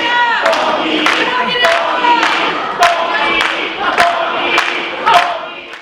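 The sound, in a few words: wrestling crowd chanting for Tommy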